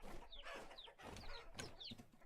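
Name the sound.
chickens clucking in the video game Vintage Story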